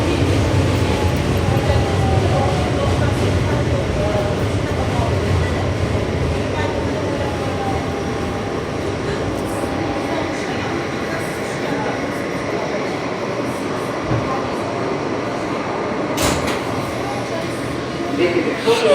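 Riding aboard a New York City subway F local train bound for Coney Island–Stillwell Avenue, the car rumbles steadily on the rails with faint squeals and a few clanks, under a quiet voice.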